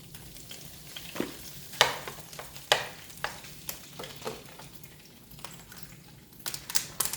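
Food sizzles steadily in avocado oil in a hot pan, broken by irregular scraping and stirring clatters from a utensil, close up with no talk.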